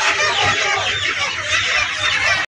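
Chickens cluck and squawk in a dense, close chorus at a wholesale poultry market in Tongi, a continuous loud flock noise that cuts off abruptly at the end.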